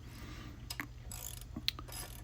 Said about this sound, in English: I'm going to use a socket to gently screw in the axle, make sure it's not cross-threaded at all.